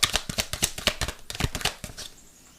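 Oracle cards being drawn from a deck give a rapid series of crisp, papery flicks and shuffling snaps, close and fairly quiet, in an irregular rhythm that fades out near the end.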